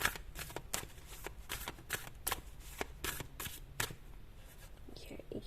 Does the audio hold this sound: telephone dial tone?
no